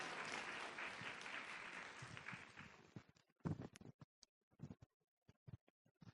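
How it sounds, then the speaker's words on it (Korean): A church youth congregation claps in welcome for a speaker, a dense burst of applause that dies away after about three seconds, followed by scattered footsteps and small knocks in a quiet room. "우리 하나님께 감사의 박수로 우리 전사님 맞이하도록 하겠습니다."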